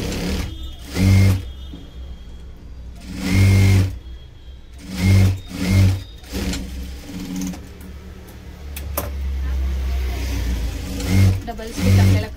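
A sewing machine stitches a blouse in short, loud whirring bursts, about eight runs of a second or so separated by pauses, with someone speaking between and over them.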